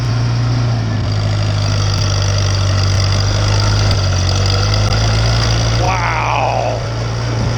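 A 1953 Farmall Cub tractor engine idles steadily close by, a low continuous drone throughout with a brief higher squeal near the end; no one talks over it.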